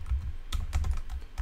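Quick typing on a computer keyboard while coding, a handful of close, crisp key clicks in an uneven burst, fairly quiet and alone.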